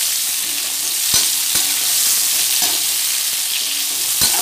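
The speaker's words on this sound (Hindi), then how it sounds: "ये अच्छा गोल्डन हो जाएगा तब तक हमने इसको फ्राई करना है।" Chopped jackfruit frying in a pan over a medium flame for a kathal sabji, giving a steady bright sizzle with a few sharp clicks of a spoon against the pan.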